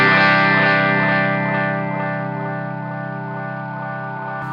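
An Eastwood Black Box delay pedal with repeats maxed out on an electric guitar, a sustained chord smearing into dense, buzzy repeats that slowly fade, loud and alone without voices.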